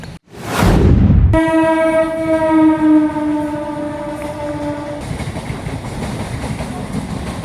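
A train passes near a track, opening with a loud sustained horn blast of several seconds, then a steady rolling rumble of the cars going by close at hand.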